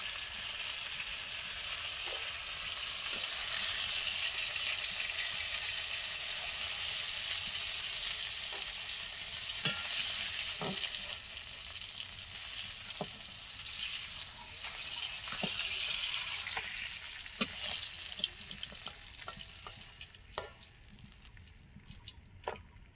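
Fish slides into hot oil in a pan for a Bengali fish fry and crackles in a dense, steady sizzle with scattered pops and spits, close and continuous, easing somewhat toward the end.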